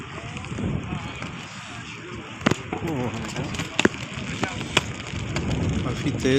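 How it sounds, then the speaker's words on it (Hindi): Strong wind during snowfall on a New York City street, gusting and rumbling against the microphone with sharp clicks and rustles, under a faint voice. "काफ़ी तेज़ हवा भी चल रही है।"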